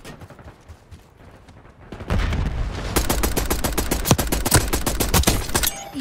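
Rapid gunfire in Call of Duty Black Ops 6 multiplayer, loud and close, bursting in after two quieter seconds and continuing as dense automatic fire with sharp repeated shots to the end.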